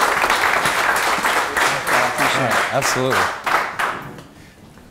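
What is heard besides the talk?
audience applause for a speaker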